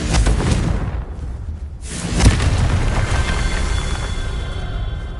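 A Confringo blasting spell going off in a Harry Potter game: a loud boom and rushing whoosh, a short lull, then a second heavy blast with a long rumbling tail.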